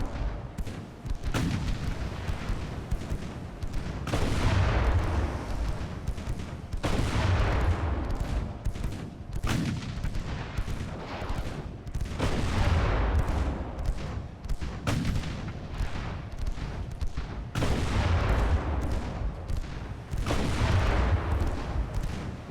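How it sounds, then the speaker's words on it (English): Volleys of 3-inch naval guns firing in a naval battle game, repeated heavy booms every few seconds with long rumbling decays, loud and continuous over a low background roar. "All those guns firing the 3 inches."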